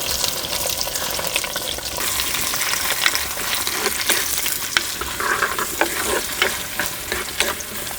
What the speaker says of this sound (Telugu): ఈ ఉల్లిపాయ ముక్కలు బాగా బ్రౌన్ కలర్ వచ్చే వరకు వేయించుకోవాలండి